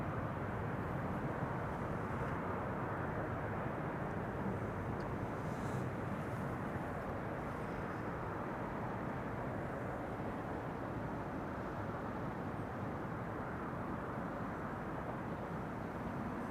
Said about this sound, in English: Atlas Air arrival from Miami, Florida. Flight 8209. 747-400 freighter.